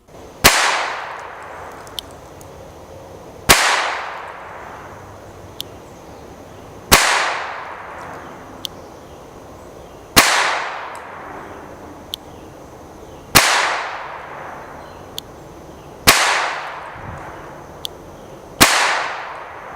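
A .25 ACP pistol fired at an indoor range from seven yards: seven sharp, loud single gunshots spaced about three seconds apart, each with a short ringing decay, plus faint clicks between shots.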